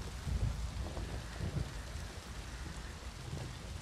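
Rain pours steadily in The Witcher 3: Wild Hunt, a dense hiss with low rumbling thumps near the start, no voices.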